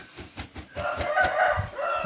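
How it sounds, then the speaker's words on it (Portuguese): A heavy rooster flaps its wings in a quick series of thumps, then lets out a loud, close crow that rises and holds before trailing off. "Galo é esse daí, pesado."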